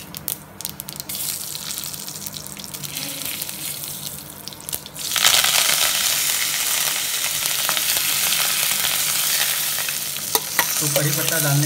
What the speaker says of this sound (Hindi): तो चलिए सबको फटाफट हम फ्राई करते हैं।